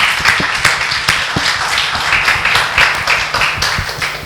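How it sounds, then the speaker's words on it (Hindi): An audience at a school dance competition show claps loudly and briskly, a dense, rhythmic burst of many hands with sharp individual claps standing out near the front, sustained throughout. "उसके लिए तो एक बार तालियां तो बनती हैं"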